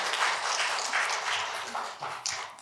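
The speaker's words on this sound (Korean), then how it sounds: "다시 한번 크게 박수로 격려해 주시고 후원해 주시기 바랍니다" A congregation applauds at an ordination service in a Korean Presbyterian church in Niagara. The clapping is a steady, dense wash that fades slightly toward the end, with no one speaking over it.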